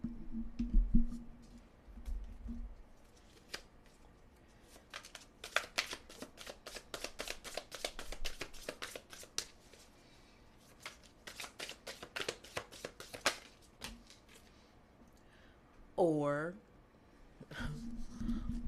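A deck of cards being shuffled for a tarot-style reading, riffling in quick, close bursts with pauses between them, as a person speaks at times over the shuffling.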